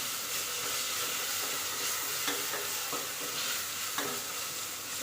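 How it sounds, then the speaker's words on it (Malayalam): Ginger-garlic paste stirred and fried for chicken kurma, a steady, fairly quiet hissing sizzle with occasional light scrapes of a spoon, heard up close with no talking. "ഒരു സ്പൂണ് ഇഞ്ചി വെളുത്തുള്ളി പേസ്റ്റ് കൂടി ചേർത്ത് കൊടുക്കാം നല്ല ഇത് നല്ല ഒന്ന് മൂത്ത് വരുന്ന വരെ നല്ലപോലെ കലക്കി കൊടുക്കാം"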